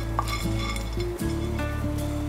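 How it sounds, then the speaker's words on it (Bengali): Spices lightly frying in a pan before being crushed, a steady close sizzle with occasional clinks of a utensil against the pan, no voices. "আমি এটাকে ক্রাশ করব তার আগে একটু ভেজে নিচ্ছি"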